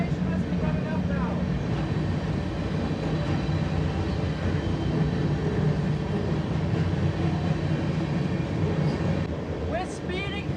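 A freight train speeds through a rail yard, heard from aboard as a continuous loud rumble with rattling and clanking of cars and wheels, with squeals near the end and a voice speaking over it.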